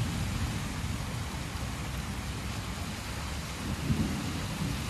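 Heavy early-evening thunderstorm over Metz: dense, constant rain with a low rumble of thunder swelling toward the end, loud and enveloping, no voices.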